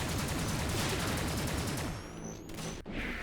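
Rapid, dense bursts of gunfire from bullets shot in a video game under construction, continuous and loud, thinning briefly near the end before resuming.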